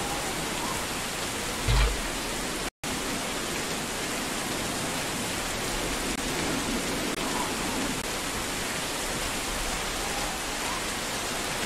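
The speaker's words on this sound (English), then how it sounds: "The rain just started" Steady rain falls in the video game Please Find Me, a dense broadband hiss that holds evenly throughout with one brief low thump near the start and a momentary dropout, no voice.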